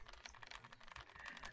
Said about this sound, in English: I'm typing so fast, look! Okay, I just have a macro keyboard on.